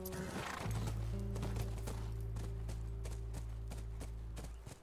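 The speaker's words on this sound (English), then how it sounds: "That's our horse." Horse hooves clip-clop in a steady, even rhythm over a low rumbling hum in the video game The Last of Us, fairly quiet and without voices.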